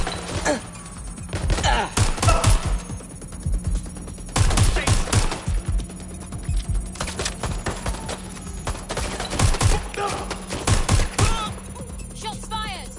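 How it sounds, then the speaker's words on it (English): Gunfire in the video game Watch Dogs Legion, loud bursts of rapid automatic shots and single cracks in repeated volleys, with brief pauses between, over a low steady background hum and occasional voices. "Shots fired!"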